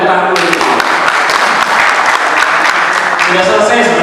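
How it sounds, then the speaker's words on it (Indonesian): Audience applause at a regional inauguration ceremony, loud sustained clapping through the whole stretch with a speaking voice carrying over it. "Kita berikan tepuk tangan dulu"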